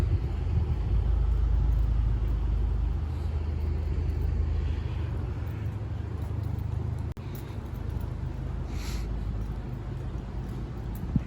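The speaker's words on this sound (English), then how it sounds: "there's a lot of cars here" Steady road traffic in Southern Virginia, cars rolling past as a continuous low rumble with a louder pass near the start, no voices.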